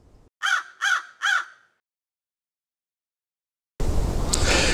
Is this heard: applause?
no